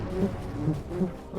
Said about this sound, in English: Giant bees. That's it, huh? Just giant bees.